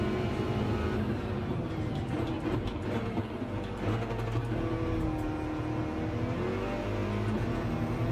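In Gran Turismo, a racing car engine drones steadily and loudly throughout a manufacturers daily race, its pitch rising and sliding as the car speeds up and slows for a corner.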